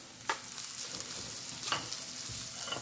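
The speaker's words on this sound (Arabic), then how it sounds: "غادي نخليها تشحر شويه" A spiced fish filling sautéing in a pan, a soft steady sizzle with a couple of brief stirring scrapes, fairly quiet and close, no voices.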